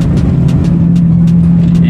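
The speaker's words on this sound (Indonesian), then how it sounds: "Mobil ini sama sekali tidak kedap suara." Cabin road noise inside a poorly soundproofed 1998 Toyota Corolla AE111 with windows closed: a loud, steady low drone with a constant engine hum, unbroken for the whole moment.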